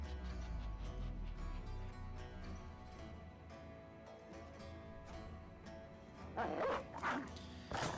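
War dogs in the Battle Brothers video game bark and yip repeatedly over continuous game music and battle noise, with a louder burst of barking near the end.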